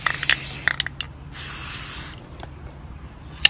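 Spray primer misted onto a Schleich model horse: several short close hissing bursts, then a longer sustained spray, and a few more quick spurts, with no talk.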